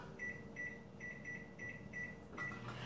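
Microwave oven cooking stuffed mushroom filling hums steadily, with a series of short repeated beeps as buttons are pressed and a final clunk at the end.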